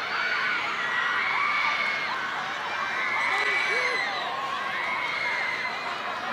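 Football stadium crowd at a youth cup semi-final between Rangers and Kashiwa, a continuous distant roar of many voices with shouts and whoops rising and falling, heard alone without commentary.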